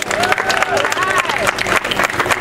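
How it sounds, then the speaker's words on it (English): Audience applause and clapping at an outdoor mural dedication ceremony honoring Reverend Hosea Williams, a steady dense patter of many hands with crowd murmur and faint cheering mixed in. "Let's give a big round of applause for Jose."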